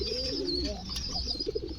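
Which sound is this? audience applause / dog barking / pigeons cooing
pigeons cooing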